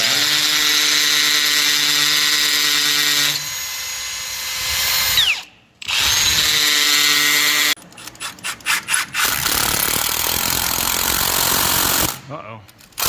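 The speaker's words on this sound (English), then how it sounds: "Milwaukee, hammer drill and everything." A Milwaukee hammer drill bores holes on a plumbing job beside conduit, loud and close, grinding in long sustained runs broken by short pauses and a stretch of stuttering bursts.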